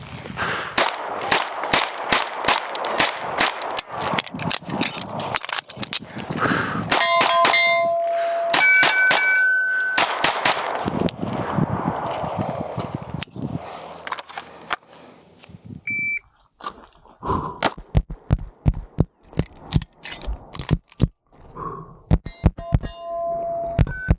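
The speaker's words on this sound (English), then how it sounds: "This made it very easy to get all of my hits while shooting on the move, even at that mini A-zone steel target that is only 6 inches wide." Rapid pistol shots from an Atlas Ares Commander ring off steel targets, including a small six-inch A-zone plate, while the shooter moves; sharp loud cracks come in quick bursts followed by bright metallic clangs and dings, with brief pauses between strings.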